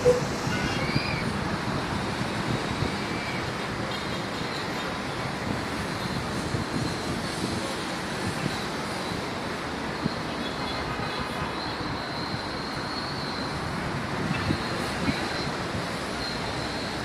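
Sea waves wash against the shore below a beachfront balcony in Mandara. A steady broad rush of surf and wind runs throughout at a moderate distance, with a faint voice briefly.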